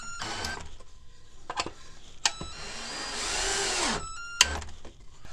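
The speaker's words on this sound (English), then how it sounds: "just drill it to give room for the screw head to go into the wood" Power drill boring a countersink hole for a screw head in a wood board for a paper towel holder, a close, loud whine that rises, holds for about a second and winds down, with clicks and handling before and after.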